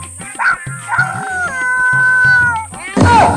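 A person imitates a dog, giving several barks and a drawn-out howl, then ends with a harsh, breathy burst.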